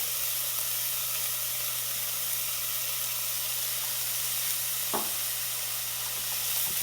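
Onions for cazuela de chorizo sizzle gently in a pan, a steady bright hiss with fine crackle throughout and one brief clatter near the end.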